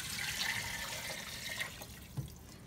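Water poured from a glass into a cooking pot holding beef, cloves, black pepper and cardamom for beef pulao, a steady close splashing pour with a few small drips and knocks near the end.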